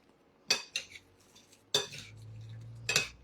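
A spoon clinks and scrapes against a bowl while a tomato cracker salad is mixed, several separate close taps and scrapes over quiet background, no speech.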